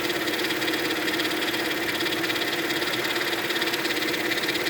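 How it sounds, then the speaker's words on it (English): The engine bay of a 2000 Mercedes-Benz E320 wagon, its power steering pump making noise and the steering stiff, gives a steady running drone with a constant mid-pitched whine over a dense mechanical hum, close and unbroken. "I assume that's a power steering pump, since I have stiff steering"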